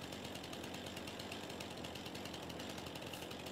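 A chainsaw in the Farming Simulator 22 video game runs continuously with a harsh, buzzing motor drone, steady and fairly quiet, with no speech over it.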